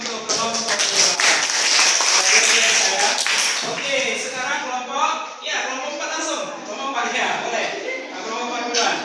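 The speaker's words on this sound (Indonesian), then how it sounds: "tepuk tangan untuk kelompok 2" A school audience claps for a presenting group, a dense burst of hand applause that stays loud for several seconds and then thins into scattered claps as it fades out.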